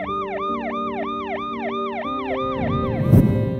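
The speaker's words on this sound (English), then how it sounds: "hundreds of protesters stepped aside to let an ambulance through." An ambulance siren wails in a Paris street, a fast repeating up-down yelp cycling steadily and close, with a brief burst of crowd noise near the end.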